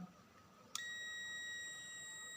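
A multimeter's continuity buzzer goes off while an SM4186 LED panel is checked for faults, giving a sudden click and then a steady, faint, high, pure beep that holds until the end.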